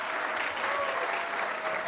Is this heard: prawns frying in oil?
no